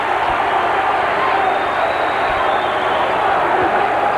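Loud, dense roar of a college basketball arena crowd at Rutgers during a Penn State–Rutgers A-10 championship game, a steady wall of cheering and shouting filling the space throughout.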